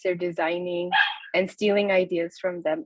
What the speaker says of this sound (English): I apologize if you hear barking in the background.